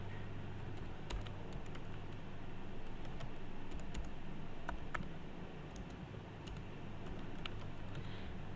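Soft, irregular clicks of typing on a computer keyboard, faint and scattered over a steady low background hum.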